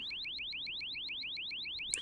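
An electronic alarm plays a rapid repeating rising chirp, about eight sweeps per second, steady and evenly paced, with a brief click at the very end and no voices.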